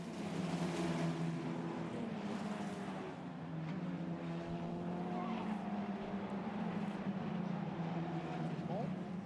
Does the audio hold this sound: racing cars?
yes